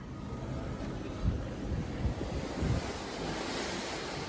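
Ocean waves wash steadily below a Carnival Celebration cruise ship balcony at sea, with a broad rushing surf and gusty wind noise buffeting the microphone, swelling in a few louder surges.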